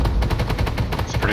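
Rapid tank gunfire in the Armored Warfare video game, a fast rhythmic burst of roughly a dozen loud, close reports running continuously with dense low-end boom.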